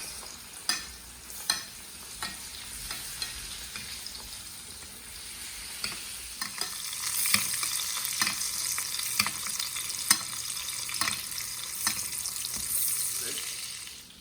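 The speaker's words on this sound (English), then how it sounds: "Turn it down to a little less than medium with the butter. And then you wanna baste" USDA prime steak being basted with butter in a hot pan, a steady loud sizzle and crackle with occasional spoon clicks and spatters, building in intensity partway through with no talking.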